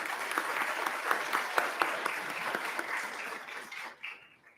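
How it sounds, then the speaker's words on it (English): Clapping from a school board meeting audience honoring students rises in a dense burst, carries on evenly for several seconds with a few sharper claps standing out, then tapers off quickly. "Let's give them a round of applause."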